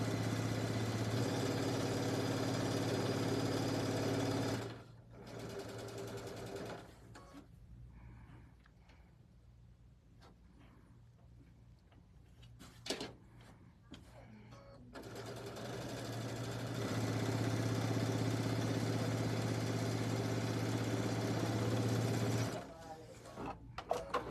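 A sewing machine stitches matching seams on a sunflower thread catcher with an extension table fitted, running in long steady bursts that stop for a quiet pause and then resume, loud and close.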